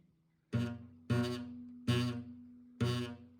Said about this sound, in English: So if you're getting buzzing, especially on this string, this is probably what's happening.